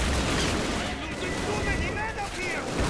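Gunfire in a Call of Duty war game, a steady wash of distant rifle and machine-gun fire that rolls under the din of a chaotic battlefield, with a voice briefly heard over it.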